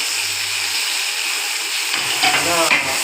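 Onions and tomato sautéing in a pan for Tamil-style beef gravy, a steady soft sizzle and hiss with a few stirring scrapes near the end.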